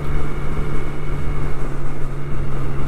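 A 2012 Triumph Speed Triple 1050 with an aftermarket Aero exhaust and quiet insert drones under throttle, a loud, steady, close engine hum with rumbling wind noise and no pause.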